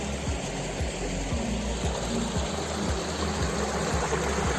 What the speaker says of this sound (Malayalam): വെള്ളം നല്ല ഒഴുക്കാണല്ലോ.